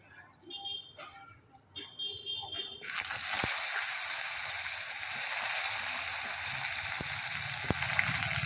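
Vegetables hit hot oil seasoned with dry coriander and cumin, bursting into a loud, steady sizzle that continues unbroken after some quieter kitchen clatter at the start.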